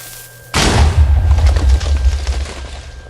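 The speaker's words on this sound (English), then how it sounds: "at least I can make a decent TNT cannon" A Minecraft TNT cannon goes off in one loud, close boom, followed by a deep rumbling tail that slowly fades, with no voices.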